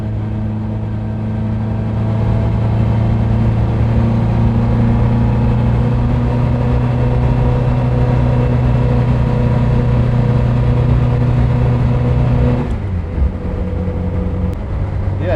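A car engine held at full throttle drones steadily with a strong low hum and tonal whine, loud and close, then the pitch drops abruptly near the end as the revs fall off.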